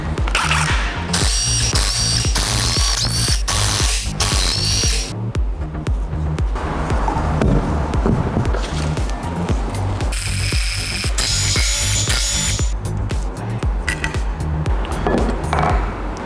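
A ratchet wrench cranks in quick clicking bursts while bolts are loosened to remove an AC compressor, bracket and oil pan from a car engine. Rapid ratcheting runs alternate with short pauses and faint handling noise.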